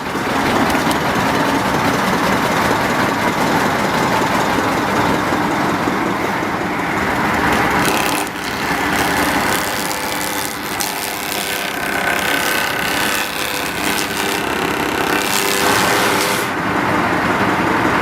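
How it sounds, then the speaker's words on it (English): One machine in a shed runs all the tools through drive shafts and belts, making a loud, continuous mechanical racket with rattling and shaking that holds steady for the whole stretch. "this thing makes an almighty racket and the whole bloody shed starts shaking because the whole system's run by drive shafts and belts"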